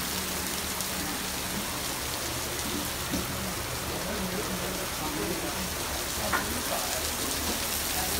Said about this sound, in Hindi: बारिश बहुत तेज लगी है